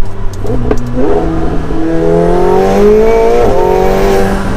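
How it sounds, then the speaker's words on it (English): McLaren 720S Spider sports car with its rear window lowered, the engine revving up in a loud rising pitch heard from inside the cabin, steady and close with no talk. "you can really, really hear the car now"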